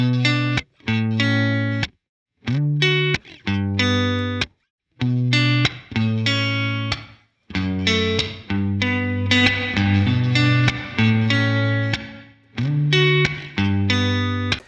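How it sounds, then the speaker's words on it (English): A dry, unprocessed guitar loop of rhythmic chopped chords with short gaps between phrases, played alone and close up, without reverb. "So I have a dry guitar loop here."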